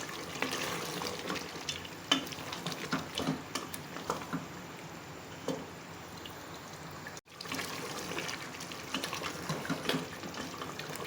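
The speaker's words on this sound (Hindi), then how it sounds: "दही के साथ इसको भूनें अच्छी तरह से।" Mutton masala with yogurt fries in a pan while a spoon stirs it, giving a soft continuous sizzle broken by scraping and clinks, moderately close and without speech.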